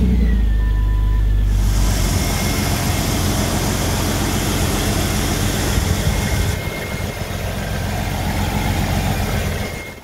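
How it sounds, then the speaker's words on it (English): A 2000 Jeep Cherokee XJ or 1998 Jeep Grand Cherokee engine cranks and catches, then settles into a loud, steady idle rumble that continues throughout. "Step one, we're going to start the engine. Let it run for a couple minutes to warm up."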